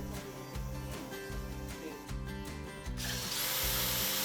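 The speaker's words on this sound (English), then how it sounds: "she's trying to drill a diagonal bolt hole" A power drill bores a diagonal bolt hole through a timber frame beam in traditional Japanese joinery, its motor whirring in steady pulses that rise to a louder, continuous grind near the end.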